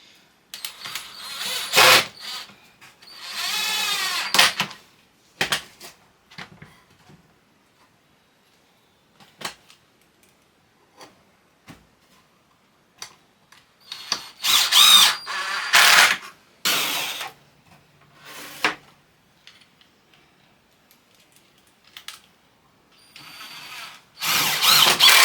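Power drill driving screws into the legs of folding saw horses, several loud separate bursts of whirring with quiet pauses between them, close to the microphone.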